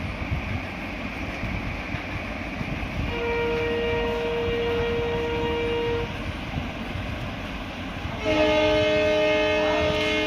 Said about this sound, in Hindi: साथियों मैं रेलवे स्टेशन के पास रहता हूँ, तो थोड़ी ट्रेन की आवाज़ का आपको अनुभव होगा।